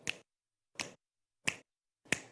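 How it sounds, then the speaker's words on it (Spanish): Four crisp finger snaps spaced evenly about two thirds of a second apart, sharp and close against near silence, used as body percussion in a music class. "También vamos a utilizar chasquidos."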